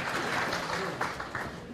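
A class applauds a student, with a short burst of steady clapping close by that fills the room and fades slightly toward the end.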